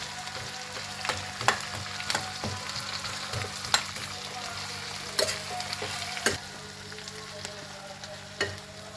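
Onions frying until soft in a pan for a chickpea-flour and onion sabzi give a steady, moderate sizzle with occasional stirring clicks and scrapes, alone.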